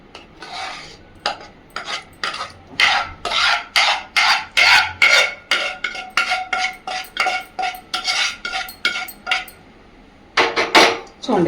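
Rava burfi mixture scraped and spread evenly across a greased plate with a metal spoon, giving a dense run of rhythmic, close scraping strokes, a short pause, then a few more scrapes.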